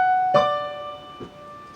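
Piano plays the final measure of a piece: a struck note rings and sustains near the start, then a softer second note follows and fades.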